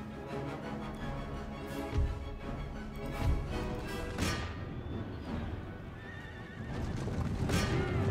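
Cavalry horses, including horse grenadiers and skirmish cavalry, neigh and whinny loudly over galloping hooves in an Empire Total War battle in the Balkans, with a dense rumble of battlefield noise and repeated whinnies standing out.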